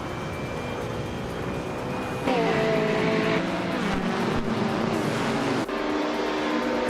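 A 2020 Chevrolet Corvette C8R and other race cars at a race start: a continuous loud engine roar with shifting pitch as the cars accelerate, dense and steady throughout with no talk.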